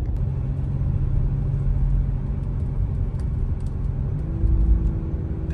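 An Audi SQ5 fitted with an 034 Motorsport transmission brace insert rumbles steadily while driving, its engine note dropping and shifting as it downshifts, under constant road noise.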